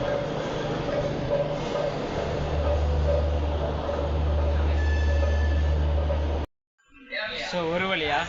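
Amrit Bharat Express push-pull train departing Thiruvananthapuram Central, a steady heavy rumble with deep low drone and rail noise heard from on board, cutting off abruptly before a voice begins speaking.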